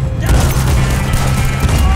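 Guns fire in Red Dead Redemption 2, a fast-reloading weapon with a big blast, giving a dense, loud barrage of booming gunfire that fills the whole stretch.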